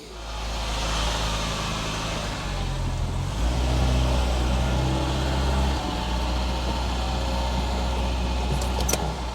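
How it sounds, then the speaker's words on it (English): A Citroen BX 16 TRS engine runs while warming up, a steady mid-pitched hum close by that shifts slightly in tone partway through, with a faint tick or click near the end and no voices. "Let's get this car warmed up."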